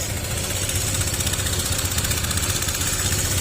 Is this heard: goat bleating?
no